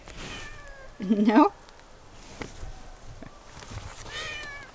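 A cat lets out a short, rising meow up close, with a brief spoken word and quiet, snowy, icy outdoor background around it.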